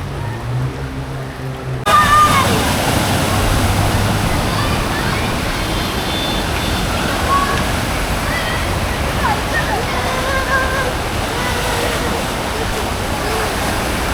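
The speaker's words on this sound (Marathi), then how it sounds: "पावसाने जोर धरला आहे." Heavy monsoon rain on a waterlogged, flooded road, a loud, dense, continuous hiss and splash that surges in abruptly after a quieter opening and holds steady throughout.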